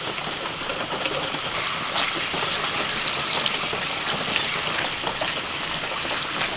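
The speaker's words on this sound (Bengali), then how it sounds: "এবার ভেজে নেব শুকনো লঙ্কা" Dried red chillies frying in oil in a pan, a dense steady sizzle close up, hissing and crackling evenly throughout without talk.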